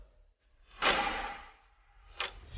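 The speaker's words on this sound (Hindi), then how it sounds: "छत के दरवाजे की कुंडी के खुलने की आवाज हुई।" A roof door's metal latch is unfastened as a dramatized effect: a sharp scraping clack swells and fades, then a second brief click follows, close and isolated against near silence.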